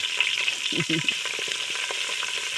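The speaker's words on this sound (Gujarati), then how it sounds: "હવે જીરું નાખી દીધું છે. હવે હિંગ આવે છે" Cumin seeds and asafoetida hit hot oil, setting off a close, crackling sizzle with quick spluttering pops, busiest in the first second and then settling into a steady hiss.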